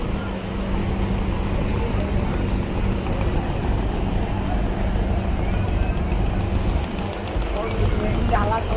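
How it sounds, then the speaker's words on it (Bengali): Passenger launch docking at Chandpur ghat, a loud steady engine rumble with constant low drone and waterside bustle, voices of a crowd mixed in throughout. "চাঁদপুরে ঘাট দিচ্ছে লঞ্চ, এখান থেকে আবার ছাড়বে।"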